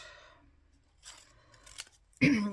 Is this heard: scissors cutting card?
yes